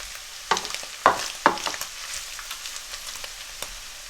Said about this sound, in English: I've been stir frying it for about 5-6 minutes, medium heat.